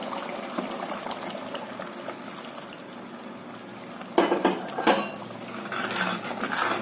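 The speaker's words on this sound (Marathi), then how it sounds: "ते उकळलेलं दूध त्यामध्ये घालायचं." Boiled milk poured into pumpkin kheer simmering in a pot, with soft liquid bubbling and utensil clinks, then a louder burst of pouring and splashing near the middle, followed by continued stirring sounds.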